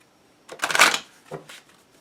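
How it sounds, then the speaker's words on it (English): A quick riffle of shuffling tarot-style reading cards, a brisk papery burst followed by a softer flick, close by with no talking. "they want one more shuffle"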